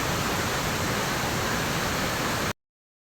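Tenoy-an Falls in Bislig, Surigao del Sur pours in a loud, even rushing roar close by, then cuts to silence after about two and a half seconds.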